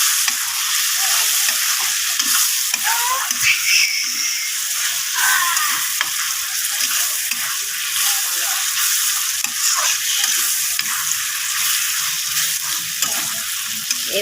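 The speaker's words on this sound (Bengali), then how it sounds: "মশলাটার সঙ্গে আমি চিংড়ি মাছটাও মশলাটার সঙ্গে ভালো করে কষিয়ে নেব।" Prawns fry with spice paste in a pan, a loud continuous close sizzle broken by repeated scraping stir strokes for the whole stretch, with no talking.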